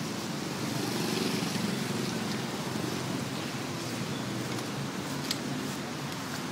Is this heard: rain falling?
yes